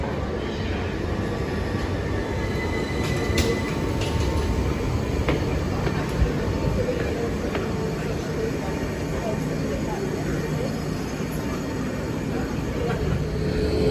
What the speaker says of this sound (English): catching these pair of 455s over to Clapham Junction